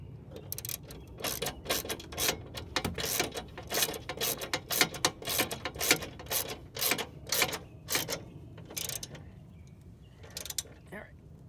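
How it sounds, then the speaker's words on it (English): A hand ratchet clicks rapidly while tightening bolts on a Yardmax YG1550 21-inch walk-behind mower during assembly, the close, sharp bursts of clicking coming in quick runs with short pauses. "Put my ratchet back on."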